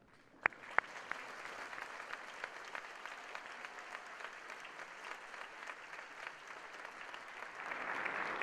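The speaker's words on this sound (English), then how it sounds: "let's give you a round of applause." A standing audience at a college's State of the College address claps together, a few sharp early claps growing into steady, sustained applause that swells slightly toward the end.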